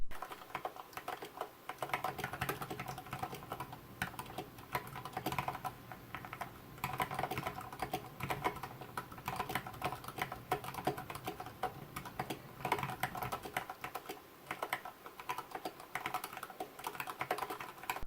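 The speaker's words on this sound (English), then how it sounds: "Here's a typing demonstration with this configuration." Steady typing on a KBDFans Niu Mini 40% ortholinear mechanical keyboard with high-profile angled keycaps, quick overlapping clacks at an even pace, close and fairly quiet, with a brief pause near the end.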